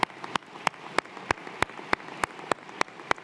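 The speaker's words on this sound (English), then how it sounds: "Please join me in giving them a round of applause." Hand clapping at a spring graduation ceremony honoring veterans: sharp, evenly spaced claps about three per second, close and loud over a soft wash of crowd applause.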